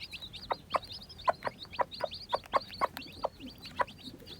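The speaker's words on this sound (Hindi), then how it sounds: "ये जी हमारे पास तकरीबन 8 जो है ना वो अमरोहा के चिक्स आए हैं और 3 जो हैं वो लासानी आए हैं" Young Aseel chicks of the Amroha and Lasani strains cheep in quick, high, repeated chirps, fairly close and mostly alone with brief low clucking tones among them.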